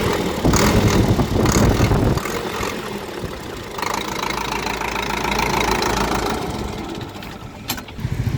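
A Sonalika DI 60 tractor with a 12-forward, 12-reverse gearbox runs nearby as its diesel engine is revved, rising into a loud, knocking roar, easing back, then surging again.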